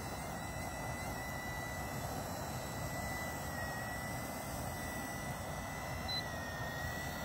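A Rotascale F03 RC helicopter flies nearby with a steady, continuous whine and rotor drone that stays even in level throughout, with no talk over it.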